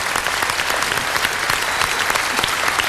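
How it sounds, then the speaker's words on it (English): A television crew applauds on a telethon set, dense continuous clapping from a small group, close and steady with no voices on top. "My crew is applauding"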